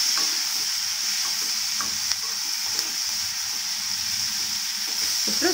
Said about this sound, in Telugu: ఇప్పుడు ఇవన్నీ ముక్కల్లో కలిసేలాగా కలుపుకుంటూ ఫ్రై చేసుకోవాలి వీటిని.